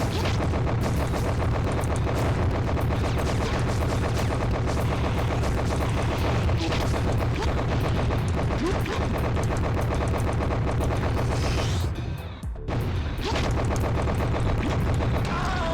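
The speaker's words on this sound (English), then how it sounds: "those green rounds, the green shots, dude, like 9 damage each" Dense, continuous video-game gunfire from green energy rounds, loud and sustained with booming impacts throughout, briefly dropping out near the end before resuming.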